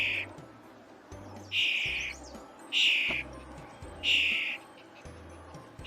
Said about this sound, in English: Well, there's some birds over there.